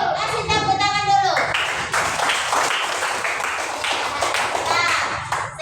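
Classroom clapping from a group of Indonesian schoolchildren after a group presentation, a dense patter of many hands that swells and carries on for several seconds, mixed with children's chatter and voices talking over it.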